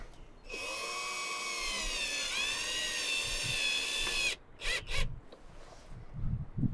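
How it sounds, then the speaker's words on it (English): A power drill whirs steadily for several seconds, pitch dipping as it drives a screw while mounting a video doorbell, then a few short bursts and clicks follow. "I'm going to be using the drill for this bit."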